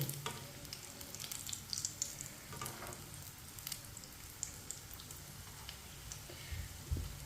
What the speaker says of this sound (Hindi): अब ये वाली साइड से ना उल्टाते उल्टाते पका लेंगे, जलने नहीं देना।